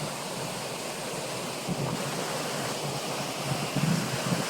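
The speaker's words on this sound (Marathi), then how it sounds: "उजव्या कालव्यातून माजलगावच्या धरणामध्ये पाणी येत आहे." Water flows from the right canal into Majalgaon dam with a steady broad rushing wash, moderately loud and continuous, with slight wind buffeting.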